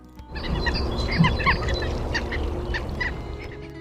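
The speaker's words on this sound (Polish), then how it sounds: "Batalion" Ruffs (Calidris pugnax) calling in the wild, a dense chorus of short, overlapping low grunting and chattering notes from a group of birds, steady and moderately loud throughout.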